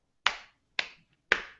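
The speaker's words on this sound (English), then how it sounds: "Clapping right there." Three sharp, separate hand claps, evenly spaced and close by, ring out against near silence.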